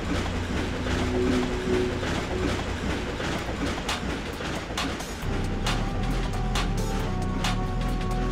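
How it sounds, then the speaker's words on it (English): In Ratchet & Clank, a passing train gives a loud, steady rolling rumble with repeated rail clicks and metallic clatter for the full eight seconds, close and unbroken. "Train."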